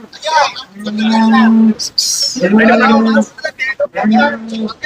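Cattle at a livestock market in Chinapuram lowing loudly, with three long, drawn-out moos close by and a brief bright burst between, while market noise carries on in the background.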